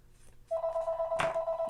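A mobile phone ringing from across a quiet room, a sudden steady electronic ring pulsing in a fast, even rhythm, moderately loud with a brief bump of other noise midway.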